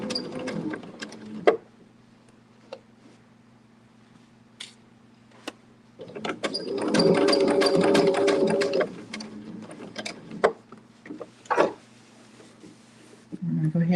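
A sewing machine stitches applique fabric slowly. It runs in a steady whirring burst of about three seconds, plus a few short stitch runs, with quiet clicks and handling noises in between. Someone talks softly over parts of it.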